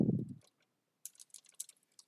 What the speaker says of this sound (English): I'm just going to start typing it.